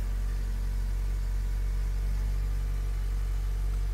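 A car engine idles with a steady low rumble and hum, constant and close, with no voices.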